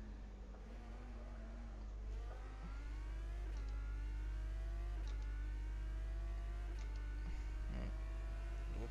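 A race car lapping Spa in a racing video game on soft tyres: a steady engine drone rising and falling through gear changes, with repeated upshifts and whining revs, heard alone and continuous throughout.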